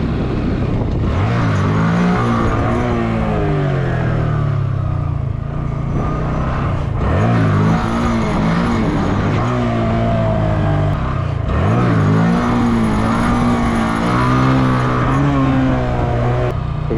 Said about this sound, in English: I can hear the piston like hitting the top, maybe.